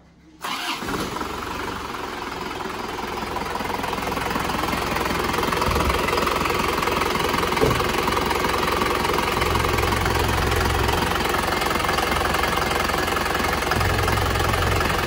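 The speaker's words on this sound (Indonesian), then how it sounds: "Penter yang baru saja datang dari Semarang ini mesinnya ngobos" An Isuzu Panther car engine with broken piston rings and blow-by cranks over and starts, then runs with a rough, loud, steady churning idle for a long stretch.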